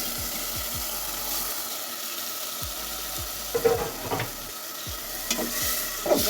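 A spice mixture with chilli powder and paste is stirred and fried in a pan, a continuous sizzle with repeated scraping strokes of the spoon and a few louder clatters, close and without talk.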